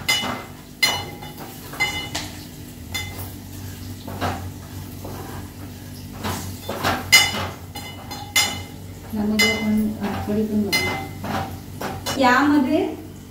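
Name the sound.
stirring mango kadhi in a cooking pot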